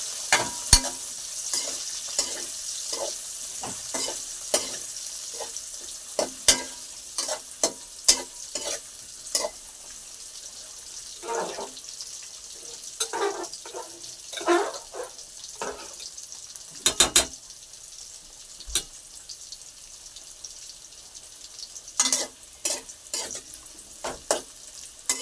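Food frying in a pan on a home stove, a low steady sizzle broken by repeated scraping and clinking of a spatula stirring against the metal, no talk.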